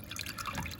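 Water trickling down a terrarium drip wall in a bioactive Exo Terra enclosure for poison dart frogs, guided by fabric along a branch: a faint, brief patter of small drips and light trickling, with no voices.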